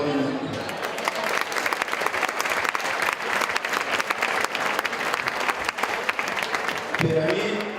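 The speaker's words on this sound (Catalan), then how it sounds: "jo crec que ells és el que se mereixen este primer aplaudiment" Sustained audience applause at a sport pigeon championship event in Benigànim, many hands clapping steadily and fairly loudly for several seconds before a voice cuts in at the end.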